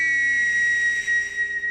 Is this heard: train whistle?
yes